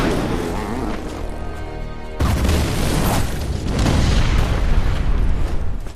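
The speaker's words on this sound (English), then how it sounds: "explosion." A fiery explosion set off by the Joker bursts in with a sudden loud boom at about two seconds, cutting into music, then rumbles on as dense, roaring debris noise through the rest of the clip.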